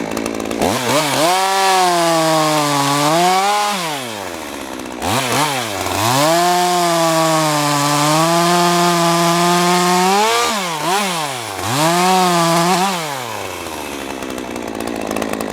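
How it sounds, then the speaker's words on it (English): Chainsaw cutting through a large blown-down tree, loud and close, the engine revving up and bogging under load in several long cuts with brief throttle drops between them. "I cut two slices close to each other, so if it starts to bind, I can get out of there before it's totally pinched off"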